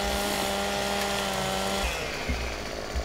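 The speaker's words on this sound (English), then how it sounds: "I'll pull out the chainsaw and I'll walk up and down the tree like this." Chainsaw from the Farming Simulator 2015 video game buzzes steadily while limbing branches off a tree, a continuous engine drone that cuts off partway with a few low thumps after.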